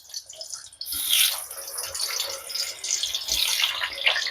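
Potato pieces rubbed with salt and turmeric fry in hot oil for chicken dum biryani, starting with a short quiet hiss before a loud, bright, continuous crackling sizzle takes over and holds close up, with no voices.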